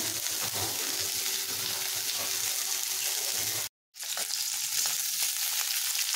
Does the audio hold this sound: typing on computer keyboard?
no